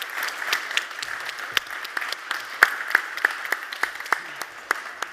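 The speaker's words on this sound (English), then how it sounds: "Give him a round of applause." A live conference crowd at a developer event applauds a man named Martin, steady clapping with sharp individual claps close by, continuing through the whole stretch.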